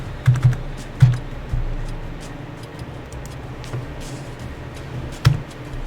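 A computer keyboard is used at a desk during PC setup: a few separate keystroke taps come early, then a long pause before one last sharp tap, over a low room hum.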